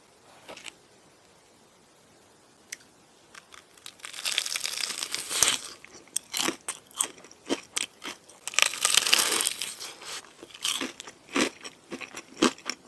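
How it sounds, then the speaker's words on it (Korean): Close, loud crunching from bites of crispy fried chicken, quiet at first, then a run of crackly chews and crinkles in uneven bursts. "GPT야 소리 듣고 내가 먹는 치킨 브랜드 맞춰봐"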